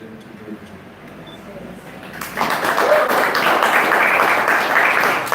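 An audience bursts into applause at a school event for children with special needs, dense, steady clapping that starts suddenly after a quieter moment and holds at full strength until the end.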